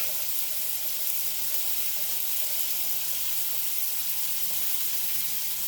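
Pieces cut from a leg of lamb fry in a pan on a stovetop, giving a steady, close, even sizzling hiss that runs without a break and with no voices.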